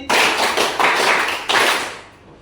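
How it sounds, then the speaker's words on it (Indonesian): Loud group hand claps ring out in a reverberant room during an ice-breaking game, several broad bursts spaced unevenly, each slightly smeared by many hands not quite together. "Tepuk tangan 5 kali."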